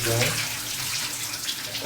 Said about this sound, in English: we'll give it a quick wash with some soap and water